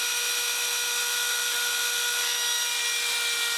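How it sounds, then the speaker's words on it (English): Router with a guide bushing cutting wood along a template on a roll top bread box, a steady high-pitched whine with constant tone, close and continuous throughout. "I was able to use the router on a nice, smooth surface with no screw heads in the way."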